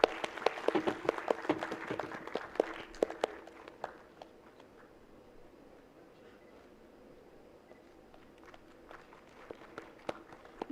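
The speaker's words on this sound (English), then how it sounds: "A big round of applause, everyone." Scattered audience applause at a food processing startup conference, a burst of claps in the first few seconds that quickly thins to sparse, faint clapping.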